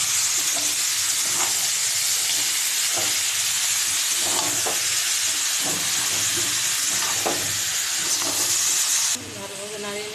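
Two kilograms of mutton in a pan of fried onions sizzle loudly and steadily, a dense hiss with periodic soft stirring knocks, ending with a sudden shift as the sizzle changes near the end.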